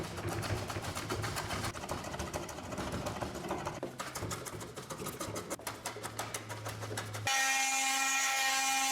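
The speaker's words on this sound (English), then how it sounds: "Fastest planer in the world." A power planer whirs and buzzes steadily against a wooden sailboat frame, a loud continuous cutting drone with slight changes in pitch as it works, ending in an abrupt cut to a different tonal sound.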